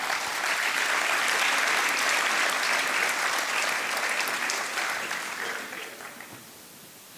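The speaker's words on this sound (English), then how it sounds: "Let's give them an applause." A large audience at a makeathon's final pitch event applauds a team taking the stage, with dense, loud clapping that sustains for several seconds before gradually thinning and fading out.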